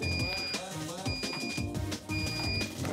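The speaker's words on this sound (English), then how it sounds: "And there goes the alarm." A home and RV gas leak detector sounds its alarm, three sharp, evenly spaced electronic beeps heard close up while someone talks over them.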